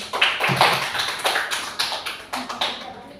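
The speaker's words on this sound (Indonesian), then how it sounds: "Tepuk tangan buat Bapak Ibu semua." Applause from an audience of teachers in an Indonesian training session, a few seconds of close, dense clapping with irregular peaks and no talk over it.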